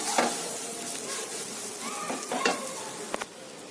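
Spiced green pea filling fries in a pan with a soft, steady sizzle, broken by a few light scrapes and clinks of stirring.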